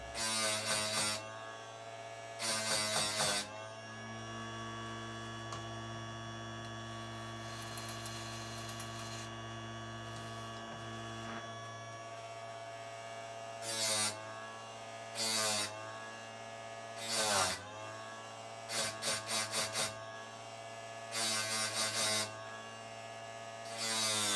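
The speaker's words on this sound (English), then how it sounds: "You'll have a better view of the sharpening process once we start on the other side of the chain." A Parkside 20V battery chainsaw sharpener hums steadily while it grinds the chain teeth in short, harsh bursts, with several quick grinds in a row toward the end.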